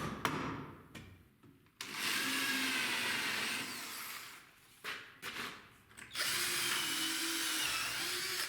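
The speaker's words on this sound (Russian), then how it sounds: "Зинкую, просверливаю, фиксирую саморезами. Сверло применяю 3 мм." Electric drill boring with a 3 mm bit into 40 by 50 mm wooden beams for a DIY bed frame with a soft headboard: two long, loud whirring runs close by, separated by short stop-start bursts.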